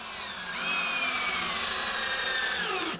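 A power drill whines steadily as it drives screws into kitchen wall framing, rising quickly and holding a high, even pitch for about two seconds before winding down, close and loud with no talking.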